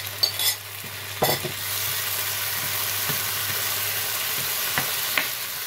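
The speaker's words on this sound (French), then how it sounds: "je mets l'ananas dedans" Pineapple pieces fry in a pan at medium heat, giving a loud continuous sizzle with scraping and tapping from a utensil moving them around.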